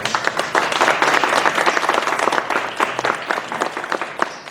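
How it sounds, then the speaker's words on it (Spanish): Loud, dense audience applause fills a museum hall during a bonsai and suiseki event, many hands clapping steadily for several seconds before tapering slightly at the end. "para quien pido un fuerte aplauso, por favor"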